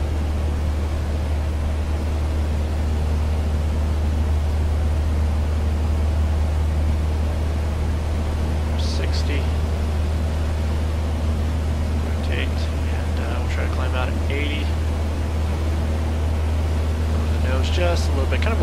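Simulated Piper PA-28-180 engine advanced to takeoff throttle in the A2A flight simulator, a steady loud droning hum holding throughout with a few faint higher chirps, no talking.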